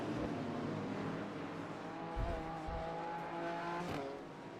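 Race cars lap the Homestead road course, engines droning steadily at a moderate distance with a low rumble and a brief louder thump as one car brakes and passes, staying fairly faint throughout.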